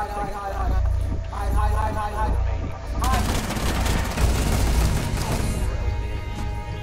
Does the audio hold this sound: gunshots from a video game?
yes